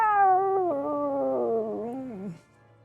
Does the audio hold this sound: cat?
yes